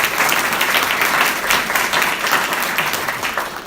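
Sustained audience applause fills a hall at a Humboldt County gift announcement event, steady dense clapping from start to finish with no voices over it.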